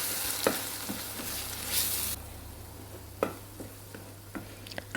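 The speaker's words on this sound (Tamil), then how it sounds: "இப்போ மசாலா பேஸ்ட்டை அரைச்சிட்டு ஒரு 2 நிமிஷம் பக்கம் நல்லா வதக்கி விட்டுக்கலாம்" Ground masala paste for a shark fish curry sautés in oil, a brisk frying hiss that drops to a quieter sizzle partway through, punctuated by a few sharp stirring taps and clicks nearby.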